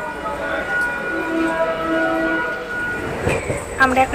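A train at a station as passengers get off, with a rumbling carriage, squealing wheel tones and a horn sounding near the end, loud and close, while people talk around it.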